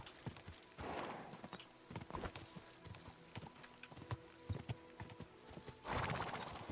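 Horse hooves clip-clop in a steady walking rhythm inside the video game Kingdom Come Deliverance 2, with faint louder swells of movement near the start and end.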